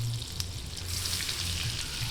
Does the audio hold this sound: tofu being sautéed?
yes